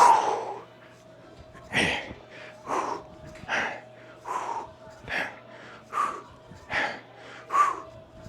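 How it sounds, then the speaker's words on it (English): Heavy, rhythmic breathing during a dumbbell getup workout, about eight loud, close exhalations that come roughly once a second with short gaps between them. "Now we're breathing."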